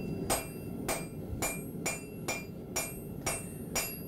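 A hammer drives hot metal down onto an anvil hardy chisel during forging, giving eight sharp, ringing strikes at a steady rhythm of about two per second, fairly quiet and close, with no voices.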